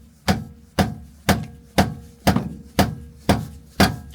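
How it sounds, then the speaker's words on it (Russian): A rubber tiling mallet strikes an aluminium part on an abandoned minibus being converted into a camper, nine evenly spaced dull thwacks about half a second apart, loud and close with no talk. "Попробую таким вот молотком для укладывания плитки."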